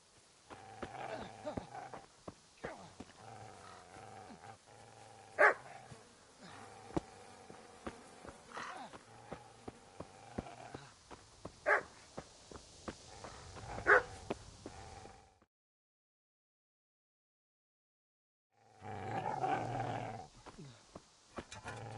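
A dog in a PS4 video game barks and growls in repeated sharp bursts over a dense game soundtrack, cutting out briefly before the game noise resumes.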